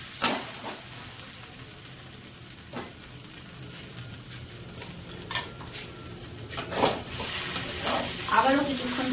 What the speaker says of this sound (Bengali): আবারও কিছুক্ষণ ভেজে নেব।